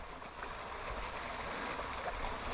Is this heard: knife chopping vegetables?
no